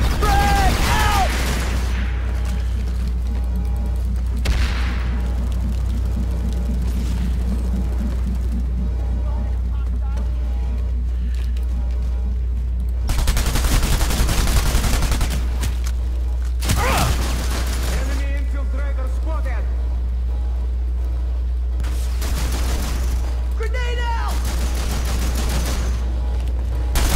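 Heavy video-game gunfire rattles in loud bursts alongside a booming frag grenade blast, over a steady low engine-like drone, with a voice talking intermittently.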